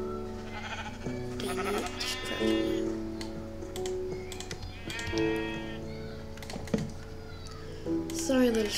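Blocky video-game sheep bleating several times in short wavering calls over a low steady background hum, interleaved with clicking keys and mouse taps.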